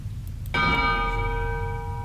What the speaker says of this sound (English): There's the second bell.